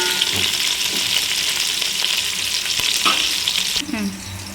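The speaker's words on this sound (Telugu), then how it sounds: "కరివేపాకు, అలాగే పుదీనా కూడా వేసుకోవాలి. కొంచెం ఇలా కలుపుకోవాలి." Curry leaves and mint sizzle loudly in hot oil in a pan for a chicken pulao, a dense close frying hiss with a few scraping stirs and a sudden clatter near the end.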